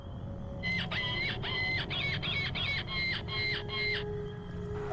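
An electronic predator call device imitating the cries of wounded wild animals gives a run of about seven evenly spaced, shrill, nasal squawks in a quick rhythm, loud and close over a steady background hum, with no voices.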